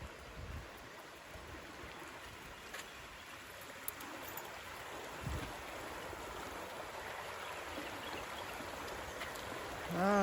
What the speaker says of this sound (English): Love the sound of the bubbling brook.